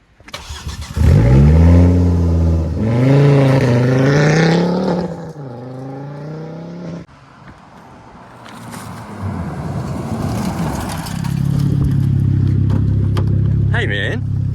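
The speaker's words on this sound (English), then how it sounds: "This is my 2010 Focus RS WRC" A 2010 Ford Focus RS WRC tribute car, a street-driven rally car, revs hard with rising and falling engine sweeps, then drops to a lower, steady drone as it drives off; people talk over it.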